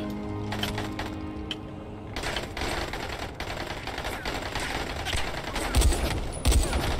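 Rapid gunfire from the zombie survival game Dying Light, a dense rattling burst of shots that runs through most of the stretch, fairly loud, with heavier thumps near the end.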